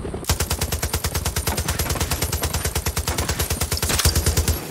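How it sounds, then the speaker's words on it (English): A light machine gun fires in Far Cry 6 in one long, rapid, steady burst of loud, evenly spaced shots that carries on through the whole stretch. "Light machine gun is amazing, isn't it?"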